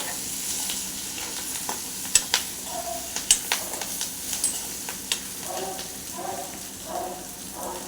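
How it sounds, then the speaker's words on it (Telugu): Curry leaves and green chillies stirred in a hot frying pan with prawns, giving steady close sizzling with scraping stir strokes and a few sharp clinks of the spoon against the pan. "దీంట్లోనే వేసుకోవాలండి కరివేపాకు, పచ్చిమిర్చి. ఒకసారి కలుపుకోవాలండి."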